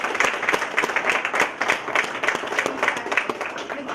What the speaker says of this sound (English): Let's give Dr. Hancock another round of applause.